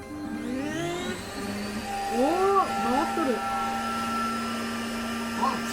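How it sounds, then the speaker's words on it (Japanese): A vacuum cleaner hooked up to a Shapeoko 3 CNC router switches on and hums steadily in a room, with a rising motor tone and chatter from people talking over it. "ここで掃除機オン。"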